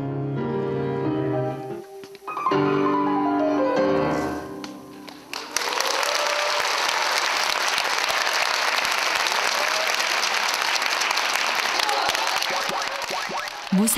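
After a concert ends, music fades out and a moved audience breaks into sustained, loud applause calling for an encore, dense clapping filling the hall for several seconds.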